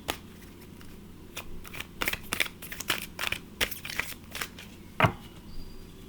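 Tarot cards being shuffled by hand, quiet crisp riffles and flicks coming in irregular bursts, with one sharper snap near the end and no talking.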